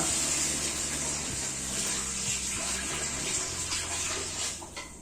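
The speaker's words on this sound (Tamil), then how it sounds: "ஃபுல்லா ஒரு தண்ணி ஊற்றணும்." Water pours steadily into a pot of rice, about one kilogram, measured out for Tirunelveli-style biryani, a continuous broad splashing rush that holds for several seconds before easing off near the end.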